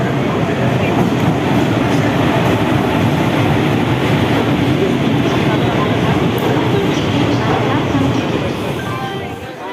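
A train arriving at a station platform makes a loud, steady rumble with rolling wheel noise and clatter, fading slightly at the end as it slows.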